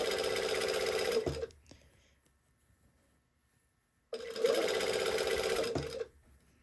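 Sewing machine running a steady stay-stitch along a garment neckline, two loud continuous bursts of about a second and a half each separated by a quiet pause, close and alone.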